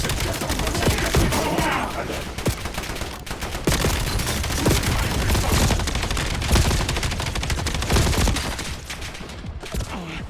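Dense gunfire from a Call of Duty Black Ops 7 firefight, with rapid bursts and automatic weapons crackling almost without pause, loud and close, plus occasional heavier reports over the constant battle din.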